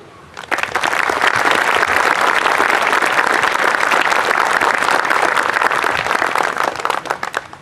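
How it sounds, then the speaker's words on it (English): A large outdoor crowd at a town Memorial Day ceremony breaks into loud, steady applause, dense clapping sustained for several seconds before tapering off. "Give yourself a hand of applause."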